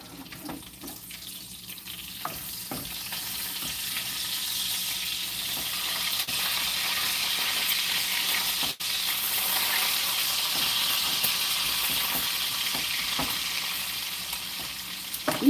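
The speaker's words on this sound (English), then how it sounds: "back to the bacon" Wild boar bacon fries in a pan with a steady, fairly loud crackling sizzle that continues throughout, broken by a few faint clicks and scrapes.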